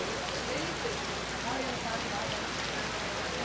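Torrential rain pours down steadily at an outdoor FootGolf world championship in Acapulco on a windy, cold day, a dense unbroken hiss of heavy rainfall that continues throughout.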